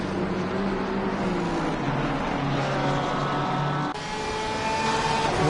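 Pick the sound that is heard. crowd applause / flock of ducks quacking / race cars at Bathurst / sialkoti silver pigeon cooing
race cars at Bathurst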